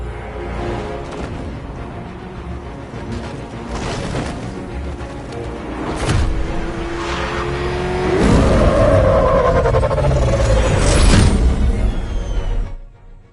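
Military vehicle engine in the Batman: Arkham Knight video game, a steady loud rumble that swells into a surging, revving roar near the end, with booming impacts layered over the driving noise.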